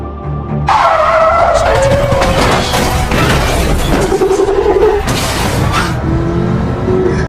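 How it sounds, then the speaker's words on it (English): A SWAT Hummer skids hard in a film car chase, loud tire squeal and engine noise running nearly continuously, with a heavier rumbling burst near the end as it crashes into a wreck. "leaving the SWAT Hummer to crash right into the mess"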